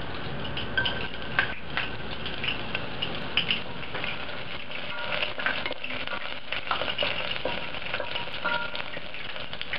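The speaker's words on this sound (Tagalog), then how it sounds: "Once na mainit na yung oil, isosotay lang natin yung garlic" Garlic sautéing in hot cooking oil in a cooking pot, a steady close sizzle and frying hiss with occasional clinks and scrapes of a utensil against the pot, without talk.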